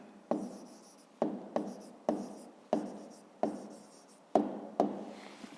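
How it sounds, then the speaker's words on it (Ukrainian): A pen or pencil scratches out a handwritten answer to a fifth-grade maths exercise, in nine close, quiet bursts, each starting with a tap on the paper. "записуємо тоді відповідь, пишемо відповідь"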